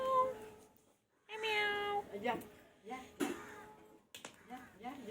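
A pet cat gives several clear, drawn-out meows in short bursts with brief pauses, heard up close alongside a person's voice.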